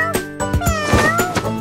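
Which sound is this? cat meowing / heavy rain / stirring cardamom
cat meowing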